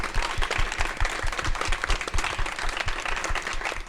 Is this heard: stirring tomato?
no